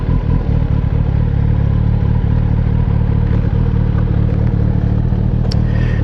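A motorcycle engine idling close by with a steady, loud, rumbling drone that stays even throughout, with no talk.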